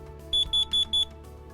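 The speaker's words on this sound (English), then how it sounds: "This is carbon monoxide. So this unit's going to give you 4 really quick beeps" A carbon monoxide unit on a combination smoke detector sounds its test pattern: four quick, loud, high-pitched beeps in an even rhythm, heard up close with the sounder hole covered to muffle it.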